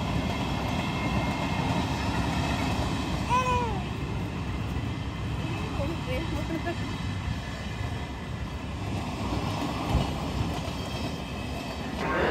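A train rolls past near a temple, a steady rumbling rail noise with faint clatter that fills the whole stretch, with a brief cat-like squeal and light background voices.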